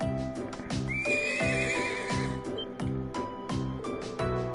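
A horse in the video game Legend of Heroes: Trails of Cold Steel whinnies loudly while its hooves clip-clop in a steady rhythm, close and continuous with no talking.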